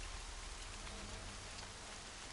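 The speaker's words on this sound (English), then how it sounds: "now it's raining" Steady rain pours across the open world of Horizon Zero Dawn, a dense, even hiss of drops that holds constant throughout with no voices over it.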